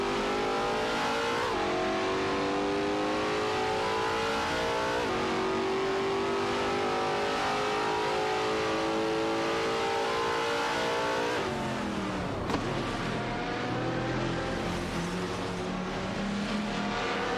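Race cars in a video game, including a Chrysler Viper GTS-R, roar continuously at high revs, engine tones climbing and shifting as cars accelerate and pass, loud throughout with no talking.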